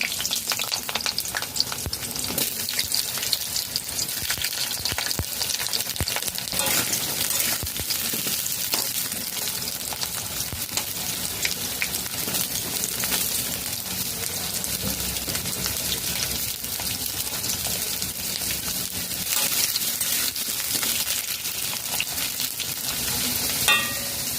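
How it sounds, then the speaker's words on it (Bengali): Cut potatoes frying in oil make a loud, dense, continuous crackling sizzle that holds unbroken and close-up throughout, with stirring scrapes mixed in. "চারটি আলু এইভাবে কেটে নিয়েছি দিয়ে দেব কাঁচা তেলে"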